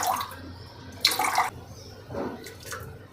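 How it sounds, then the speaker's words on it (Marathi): Water runs into a clay pot filled up to the brim, splashing in short bursts and steady streams, close and fairly loud with no talking. "इथपर्यंत वरपर्यंत माठ भरला। आता मी पाणी बंद करून घेते।"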